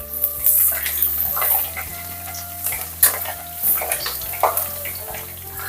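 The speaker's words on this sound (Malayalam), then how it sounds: "അപ്പൊ ഇനി ഇതിലേക്ക് ഞാൻ നേരത്തെ എടുത്ത് വെച്ചിട്ടുള്ള വെളുത്തുള്ളിയാണ് ചേർത്ത് കൊടുക്കുന്നത്." Garlic pieces fry in hot oil with mustard and fenugreek seeds over a low flame, a close, steady sizzle broken by spoon scrapes and sharp crackling pops.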